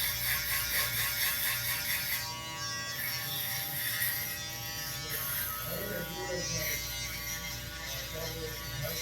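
An electric clipper trimmer shaver buzzing steadily at close range as it runs over hair, a constant mechanical hum with slight shifts in pitch and load, no talking.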